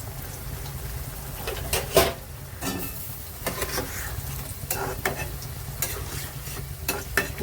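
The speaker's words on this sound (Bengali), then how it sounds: "এবার ট্যাংরা মাছটা দিয়ে দেবো" Tangra fish goes into a simmering curry gravy in a pan, giving a steady bubbling sizzle broken by irregular clicks and stirring scrapes, close and moderately loud.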